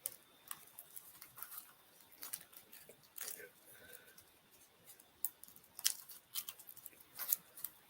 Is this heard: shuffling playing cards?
yes